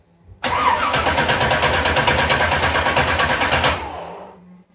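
A small-block Chevy V8 fitted in an MGB cranks and runs with a loud, rhythmic, pulsing roar close by. It lasts about three seconds, then cuts off abruptly and dies away.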